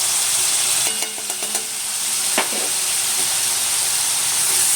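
Tomato and spice masala frying in a pan for a pomfret curry: a steady hissing sizzle throughout, with a cluster of soft stirring clicks and scrapes early on.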